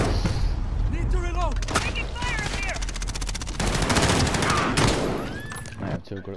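Rapid bursts of automatic gunfire from the video game Modern Warfare in Cranked mode, loud and dense, with overlapping shots and someone talking over the shooting.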